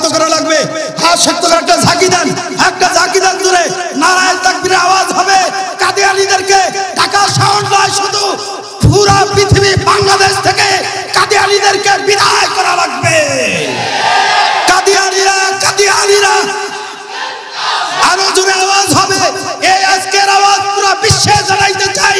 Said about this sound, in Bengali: নারায়ে তাকবীরের আওয়াজ হবে।